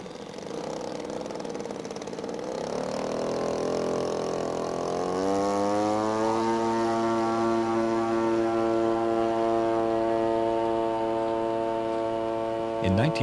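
A 1929 Supermarine S5 radio-controlled model floatplane with a G62 gas engine runs steadily, rising in pitch from a rough low drone into a sustained buzzing whine that holds loud and close until a brief flare at the end.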